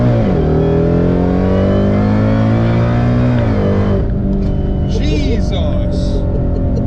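A 1000-horsepower Ford GT500 roars hard through a pull, its loud engine note climbing steadily, then dropping at a gear change around four seconds before revving up again, with excited voices riding over it.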